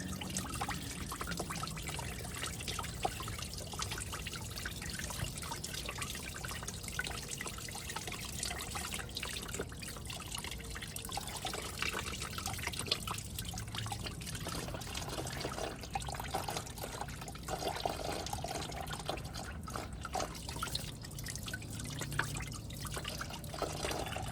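Coolant drains steadily from the radiator of a 2005 Chevrolet Silverado, a continuous trickling and dripping stream of liquid that runs on without a break for the whole stretch, with no talking over it.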